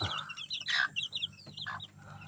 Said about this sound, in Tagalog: Layer chicks.